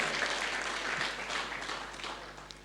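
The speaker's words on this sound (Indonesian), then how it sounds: "Mari beri tepuk tangan yang meriah bagi Tuhan kita." A church congregation at a Sunday service applauds together, producing a steady, broad wash of clapping that holds for a few seconds at moderate level, with no talking over it.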